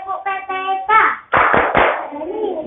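A class of children chants a school clapping routine (tepuk PPK) with their teacher, voices rising in unison before a few sharp, close claps break in near the end.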